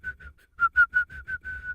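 A person whistles in imitation of a turkey's call, giving a string of about eight short, choppy, unmelodic chirps at a steady pitch, close and clear with no other sound.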